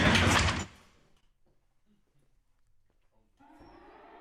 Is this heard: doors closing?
yes